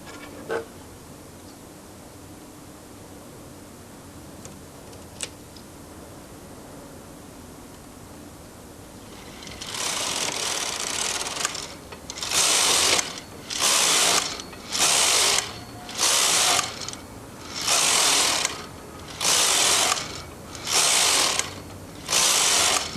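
A Brother knitting machine knitting rows of waste yarn: after quiet, a rough swish, then about nine loud, even, rhythmic carriage passes, each a mechanical rattling sweep separated by short pauses.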